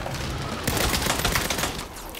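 Gunfire in a shooter video game arrives as a dense, continuous volley of shots with rapid crackling reports that grows heavier partway through, loud and close, with no clear talk.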